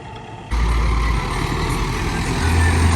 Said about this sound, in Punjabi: ਰੋਟਾਵੇਟਰ ਮਾਰੀ ਜਾਂਦਾ ਟਰੈਕਟਰ ਆਪਣਾ ਦੂਜਾ